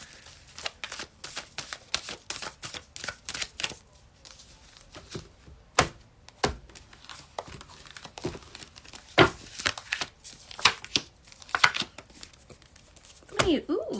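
Busy, crackling riffles and taps of a large tarot deck being shuffled over and over, close by, with a voice briefly audible in between.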